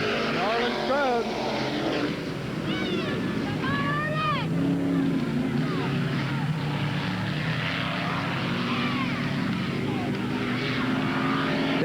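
Late model race cars at Ada Raceway in 1987, engines whining and rising in pitch as they pass, with a continuous track roar beneath a race announcer's commentary.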